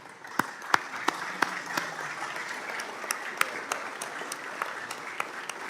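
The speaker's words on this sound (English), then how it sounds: "Who are we clapping for?" A committee hearing audience breaks into moderate, fairly faint applause, with a handful of sharp individual claps standing out above the softer, scattered clapping.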